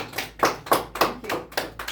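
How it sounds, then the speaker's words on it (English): A small group at a game table claps briefly, about seven distinct, fairly close hand claps in a loose, uneven rhythm, with no talk over them. "Applause."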